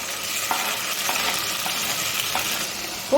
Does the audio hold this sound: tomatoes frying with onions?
yes